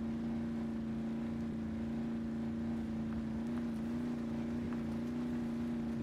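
A 1983 Ford Ranger truck engine in the video game Spintires MudRunner drones at a steady, close, low idle-like hum with slight shifts in pitch, alone with no talk.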